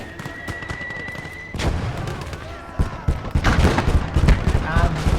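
Tank ammunition cooking off during a World War II video game battle, heard as a series of heavy booms and thuds amid gunfire, loud and close, with a steady tone early on and dense combat noise throughout.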